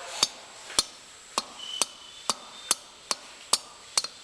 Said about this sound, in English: go ahead and tap that piston down into the cylinder